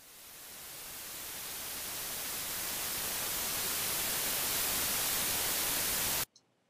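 White noise generated in Ableton 8, a steady broadband hiss that swells gently louder over the first few seconds, holds, then stops abruptly, leaving near silence.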